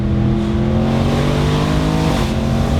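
An Audi RS7 with a V8 engine driving hard on a mountain road, a loud continuous engine roar with a rising then falling pitch as it accelerates and shifts, close by.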